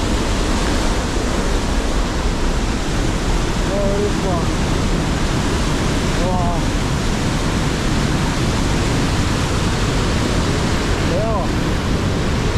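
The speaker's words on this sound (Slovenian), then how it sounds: "Vode." Water rushes steadily through a cave spring, a loud continuous roar that fills the clip, with a voice speaking briefly over it.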